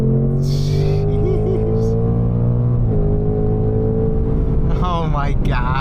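A 2024 Mustang GT pulls hard at full throttle from a rolling start, its V8 drone loud and close from inside the car, pitch climbing through the run with a brief gear-change dip; a voice exclaims briefly over it.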